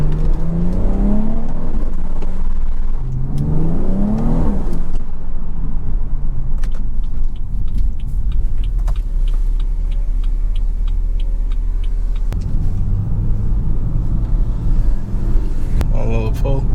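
Stock exhaust of a B58-engined BMW driving on a campus, with a steady low engine drone and two rising revs early on, then cruising rumble, with a voice over parts of it.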